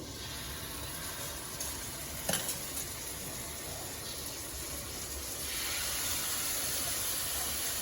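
Marinated steak sears in a hot pan with a steady, close sizzling hiss. A brief clatter comes early on, and the frying grows louder and fuller toward the end, with no talking.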